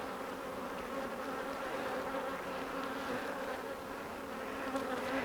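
A dense swarm of honey bees drones steadily around an open hive during a first-day-of-spring inspection. The buzzing is close and continuous with a constant pitch, and nobody talks.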